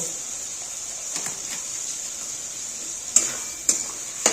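Shahi paneer with vegetables is stirred in a pan over a soft steady sizzle, with a few light scrapes early on and three sharper metallic clinks of the spoon against the pan near the end.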